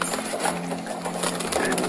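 Andalusian pigeons in a breeding loft coo in soft, low murmurs over a steady background hum, with a few faint rustles nearby.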